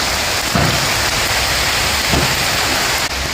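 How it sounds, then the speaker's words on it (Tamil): Heavy rain pours down steadily and loudly, a dense continuous roar on surfaces with a couple of soft low thumps, no voices. "ஒன்று மழை வந்துடுச்சு, நல்லா மழை பெய்யுது"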